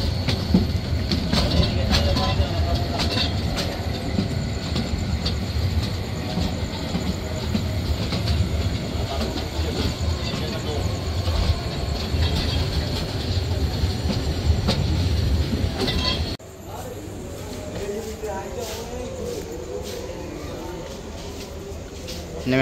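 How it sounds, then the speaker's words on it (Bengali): The Mohanagar Express rolls into Chittagong railway station about forty minutes late with a loud, continuous rumble and rattle of wheels and carriages. The noise drops abruptly near the end as it slows. "অবশেষে ট্রেনটি প্রায় 40 মিনিট বিলম্বে চট্টগ্রাম রেলওয়ে স্টেশনে প্রবেশ করছে।"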